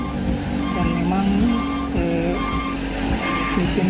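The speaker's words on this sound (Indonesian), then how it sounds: "mobil-mobil besar, mobil-mobil proyek berlalu lalang di sini ya, di jalan ini" Large trucks and construction vehicles pass along a busy road beside an industrial estate under construction, with a loud continuous engine rumble and whining, shifting tones as they go by, under talk.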